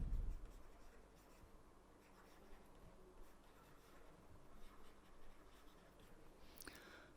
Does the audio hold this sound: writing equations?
yes